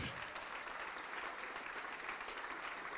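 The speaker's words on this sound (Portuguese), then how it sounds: "vamos aplaudir ao nome do Senhor" A church congregation applauds together during a worship service, a steady, dense wash of many hands clapping that holds evenly from start to finish without pause.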